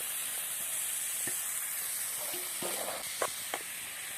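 Chilies sizzle steadily in hot oil, then cowpea beans are tipped into the pan with a few sharp clatters and bursts of frying, the sizzle continuing close and fairly soft throughout.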